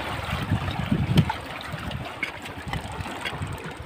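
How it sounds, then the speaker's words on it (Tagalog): Strong sea waves wash and slap against a small fishing boat, a continuous churning rush with surges, heard close from on board with no talk. "Lakas ng alon, mga tayo."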